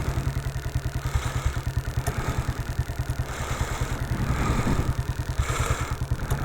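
A 1959 BSA motorcycle pulls away on a freezing -3 C morning, its single engine thumping steadily and loudly close by, with a slight wheel slip as the clutch bites and rattly mechanical clatter riding over the beat.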